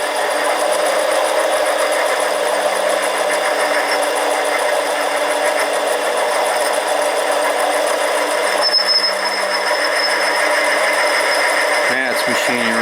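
A Harbor Freight 7x10 mini lathe turns an aluminum tube while cutting, humming with a steady, close mechanical drone and faint rhythmic chatter, with a short scraping change near the end.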